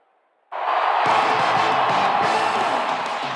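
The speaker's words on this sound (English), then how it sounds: "look at all the happy tailgaters as they get set to cheer for the hometown team" Stadium crowd cheering in the ESPN NFL 2K5 football video game at Aloha Stadium, a sudden loud swell of roaring fans that bursts in after a brief quiet and holds steady.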